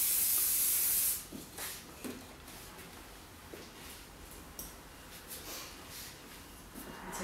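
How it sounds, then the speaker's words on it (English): Hairspray hisses from an aerosol can in one loud, steady burst of about a second, followed by quieter handling sounds and a few soft rustles while styling hair. "I'm just going to get my hairspray again"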